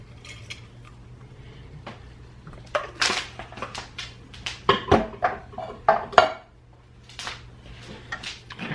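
A one-pot meal with basil and bay leaves being stirred in a pot, a run of clinking, scraping spoon-on-pot knocks, close and moderately loud, with quieter handling noises before and after and a low steady hum underneath.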